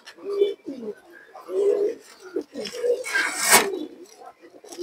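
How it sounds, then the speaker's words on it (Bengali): A male pigeon coos in a repeated series of low, throaty rolls, fairly close, with a brief clatter near the end and a voice faintly present. "এই যে দেখেন দর্শক নরের ডাকটা একটু আপনারা দেখেন"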